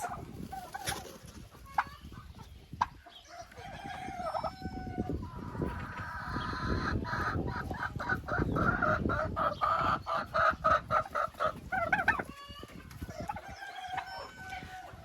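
Hens aged four to six and a half months cluck and call in an aviary coop while a rooster crows, close and continuous with scattered sharp clucks and a rising chorus midway, some faint rustling alongside.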